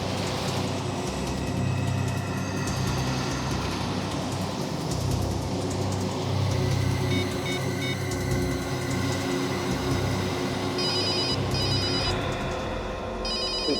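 A telephone rings repeatedly with an incoming call inside a moving vehicle, its electronic ringing partly buried under a loud, continuous rumble of road or rail noise.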